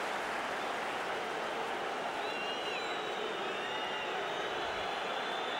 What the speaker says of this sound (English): The crowd are responding to the save